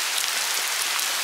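Heavy rain pours during a storm at the beach, a dense, hissing downpour of drops hitting surfaces, close and loud with no pause and no voices.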